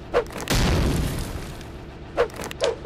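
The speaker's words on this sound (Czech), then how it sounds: "Další výbuch." A cartoon explosion in an Among Us animation hits as a loud booming burst that rumbles briefly, followed by a few shorter, softer thumps.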